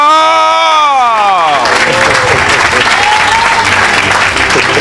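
A worship congregation breaks into loud applause and cheering, with dense clapping and whoops that follow a rising sung or shouted tone at the start.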